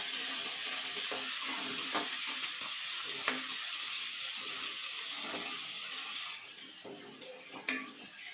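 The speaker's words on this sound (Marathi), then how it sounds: "मटर कांद्यासोबत आम्ही परतून घ्यायचं" Peas sizzle and fry with onions and tomato in a hot pan, a steady broadband crackle held for the whole stretch, with occasional stirring scrapes and the sizzle easing slightly toward the end.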